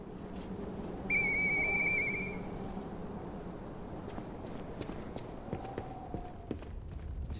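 Character whistles in the video game Lies of P: a bright, sustained tonal whistle lasting about a second, followed by soft game ambience with faint hoof-like clops and a brief lower tone near the end.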